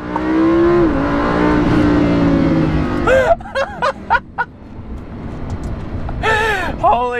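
Lamborghini Huracan sports car doing a launch-control start: a loud sustained engine roar held at about 4,000 rpm, then rising whoops as it shifts and accelerates away, with people talking and laughing over it.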